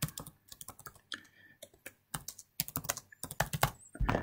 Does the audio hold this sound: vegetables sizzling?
no